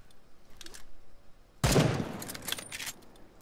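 A single loud, close gunshot bursts out about halfway through the game The Front, a sharp broadband crack followed by a short ringing tail and a few lighter clicks, over faint background noise.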